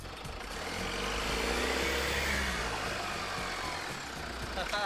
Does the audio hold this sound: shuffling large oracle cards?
no